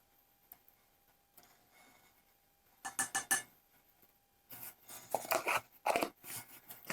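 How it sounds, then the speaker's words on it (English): Cookie dough being stirred by hand with a utensil after salt is added, with soft scraping and clicking bursts of movement in two short clusters separated by quiet pauses. "And we're just going to mix that up."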